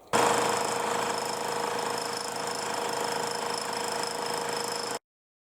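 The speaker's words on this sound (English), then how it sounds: "Here I'm going to machine a long thread on this adjusting screw." A ThreadExpress machining attachment thread-mills a long thread on an adjusting screw, giving a steady, loud, high-pitched mechanical whir with a faint rattle that runs unbroken for about five seconds, then stops abruptly.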